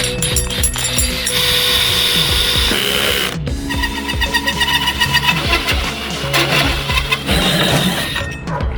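A hole saw bores a 4.5-inch opening in the top sheet of an aluminum fuel tank for a fuel pump, a loud close grinding whine with bursts of rattling and a brief pause between cuts.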